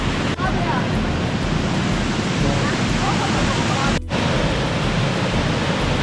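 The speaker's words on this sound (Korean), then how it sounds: "낙차가 큰 데서 물이 떨어지는 소리가" Small waterfall in Laos with a large drop, a steady loud roar of falling water filling the scene from start to finish, broken only by a brief dip near the end.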